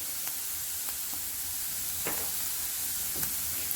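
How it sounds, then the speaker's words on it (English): Oil sizzling in a pan as food sautes with paprika and cumin for chicken and rice, a steady close hiss broken by a few soft clicks of stirring and spattering. "as this is sauteing, I'm going to sprinkle it with a bit of paprika and a touch of cumin"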